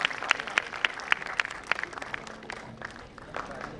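Audience applause at a valedictory function for a conference, a few sharp, distinct claps at first building into steadier scattered clapping from a moderately sized crowd, heard at medium distance.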